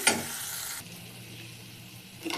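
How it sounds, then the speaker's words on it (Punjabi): Hot tempering of chillies poured into whole masoor lentil dal gives a loud hissing burst at the start, which settles into a quieter, steady sizzle before a brief clatter at the end. "ਹੁਣ ਆਪਾਂ ਦਾਲ 'ਚ ਤੜਕਾ ਪਾ ਦੇਵਾਂਗੇ"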